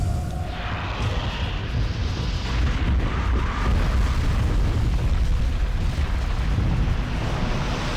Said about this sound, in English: Another earthquake?